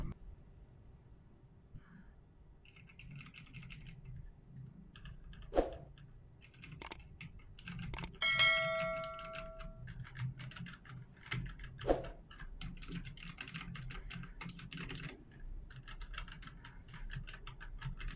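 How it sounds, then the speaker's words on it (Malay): Clacky keystrokes on a Royal Kluge RK68 mechanical keyboard with clicky blue switches, typed at a steady, irregular rhythm close by, with a few sharper louder clicks standing out and no talking. "aku bandingkan juga bunyi aku punya keyboard yang aku pakai sekarang dengan Royal Class 68 ni"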